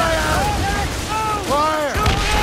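Ship cannons firing in Assassin's Creed Rogue, a dull heavy boom near the end amid a busy battle mix with swooping whistling tones and shouted crew voices.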